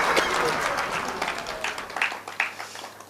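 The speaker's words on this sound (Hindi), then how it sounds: "तो एक बार जोरदार तालियां हो जाए।" Audience applause at a Hindi comic poetry gathering (hasya kavi sammelan), a steady wash of clapping that thins out toward the end, with a few sharper individual claps standing out near the close.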